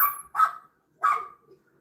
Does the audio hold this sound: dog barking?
yes